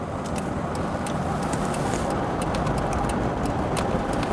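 A Jaguar XJS convertible with a 5.3 litre V12 and automatic gearbox runs with a steady, even engine drone outdoors, with faint birdsong in the background.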